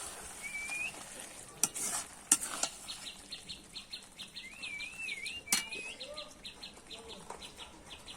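Fig and prawn curry bubbling in a pan, soft steady simmering with intermittent spoon clatters and scrapes, while birds chirp faintly in the background.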